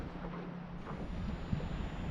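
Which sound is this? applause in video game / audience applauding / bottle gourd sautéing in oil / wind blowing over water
wind blowing over water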